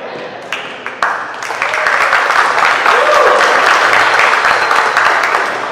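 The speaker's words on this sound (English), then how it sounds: "Nice round of applause for standing up." Audience applause after a faculty speech, starting sparse and swelling into a full, steady round of clapping from a seated crowd, with faint voices mixed in.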